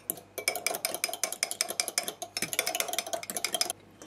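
An egg beaten in a small bowl for Nutella cookies: a fast, steady run of close clicking taps from a utensil against the bowl, with a brief pause partway through, and no talking.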